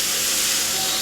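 Asafoetida frying in hot oil in a pan gives a steady, close hiss and sizzle that continues without pause through the short stretch.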